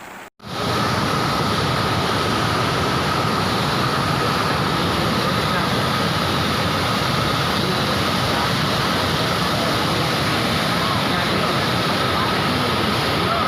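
Flood water in the Mansehra-Batgram river rushes in a loud, continuous roar that stays steady and close for the whole stretch after a brief quieter moment at the start.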